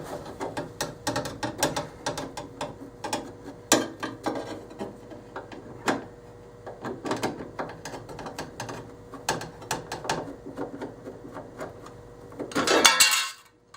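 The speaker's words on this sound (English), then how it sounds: "Then I'm going to remove this cover right here, which is just 2 Phillips screws." Close, quiet clicks and metallic ratcheting as two Phillips screws are backed out of a Royal Vendors or Dixie Narco vending machine cover, ending in a louder clatter as the part comes free.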